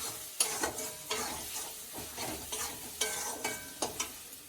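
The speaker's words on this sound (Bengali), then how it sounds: "ভালো করে কষাবো।" Turmeric, salt and ground spice paste sautéed in a pan, with steady sizzling frying broken by repeated sharp scrapes and knocks of a stirring spoon, close and moderately loud, no voices.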